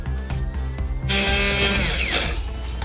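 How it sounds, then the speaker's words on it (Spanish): A blender whirs loudly while grinding pistachios with oil for alioli, its motor pitch rising and turning harsher after about a second as the blade churns the mixture up close. "Y ahora le ponemos un poco del aceite que tenemos medido y volvemos a triturar"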